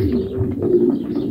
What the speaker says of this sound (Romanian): Am dat start la porumbei de reproducție.